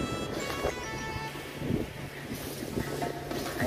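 Motorboat engine running on open water off Houlong's Cape of Good Hope in Miaoli, Taiwan, a steady droning rumble mixed with wind buffeting the microphone and splashing water, no talking heard.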